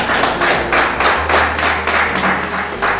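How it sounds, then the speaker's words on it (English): Pageant audience applauding for a former Miss Nigeria: a steady run of rhythmic claps, fairly loud and close, with no talk over it for the full three seconds. "Please, a round of applause."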